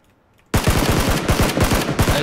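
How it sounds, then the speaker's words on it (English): Rapid automatic gunfire in the PUBG battle royale video game, a loud close burst of evenly spaced shots starting abruptly after a short quiet moment and running steadily to the end. "I'm getting shot from the back."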